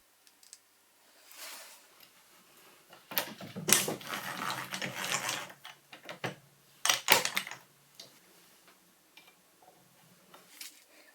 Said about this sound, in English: I can now tighten the hanger bearing screws to fix the lead screw permanently at this height